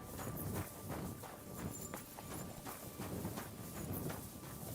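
Horse hooves approaching in the medieval video game Kingdom Come Deliverance 2, a steady rhythmic clip-clop of repeated hoofbeats at moderate volume, with no talk over them.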